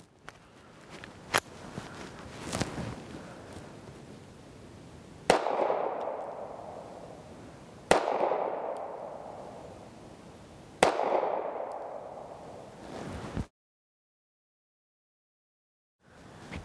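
Three sharp, loud shots from a Kimber Micro Raptor .380 pistol firing Estates ammunition at a 15-yard target, spaced a few seconds apart, each with a ringing decay, after some fainter handling knocks.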